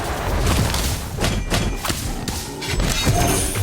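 Expulso blasting spell from a Harry Potter video game, a run of heavy thumps and crashing impacts in irregular rhythm over a continuous low rumble, loud and near.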